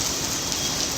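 Heavy rain pours down during a sudden weather change in Maharashtra, a dense, steady hiss of water hitting surfaces, close and continuous with no voices.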